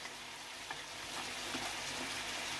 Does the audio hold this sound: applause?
no